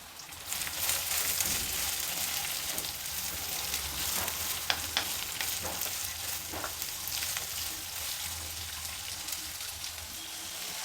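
Chopped carrots and beans sautéing in a pan, a dense, steady sizzle with occasional scraping stir strokes, close and continuous throughout.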